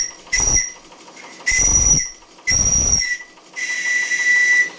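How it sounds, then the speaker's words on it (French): Steam whistle on a live steam model boat with a Babcock-type boiler running at about 1 bar, sounding four loud, close blasts over a steady hiss of steam, the last blast held longest. "Le sifflet fonctionne."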